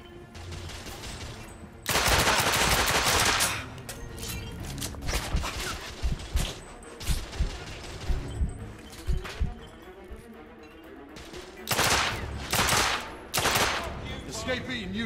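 Gunfire in The Order 1886, a video game. Two long bursts of rapid shooting bracket a stretch of scattered single shots and mechanical clatter.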